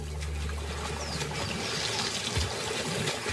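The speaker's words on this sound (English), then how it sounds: "The dominant male ripples the water to advertise he's ready to mate." Water rippled by a dominant male crocodile during a mating display in the breeding season, heard as a continuous rushing, trickling wash of water with a deep low rumble underneath, close and steady.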